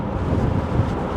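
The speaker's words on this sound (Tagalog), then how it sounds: "mahangin" Gusty wind buffeting a microphone outdoors, a steady low rumble with slight surges that fills the short moment on its own, no voices.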